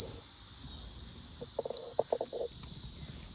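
A multimeter continuity test on a Mustang II tachometer wire gives a steady, piercing electronic beep. The tone holds for nearly two seconds and then cuts off, leaving faint handling clicks.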